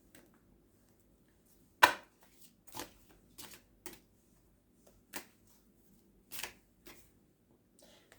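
A deck of cards is shuffled and handled in a quiet room, giving a handful of separate soft riffles and snaps spread out with pauses between them.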